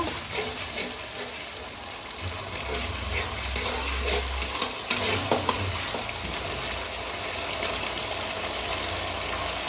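Cabbage Manchurian frying in a pan as chilli sauce is stirred in, a rough steady sizzle with scraping stirs and a low rumbling hum underneath, close with no talk.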